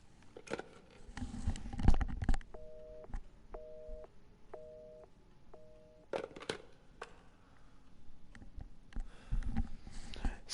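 Telephone in Resident Evil 7 gives four evenly spaced electronic tone pulses, moderately loud, framed by scattered clicks and handling noises before and after.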